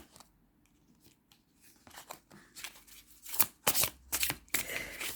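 A deck of cards is shuffled up close, starting as faint scattered riffles and building into louder, quick crackling bursts.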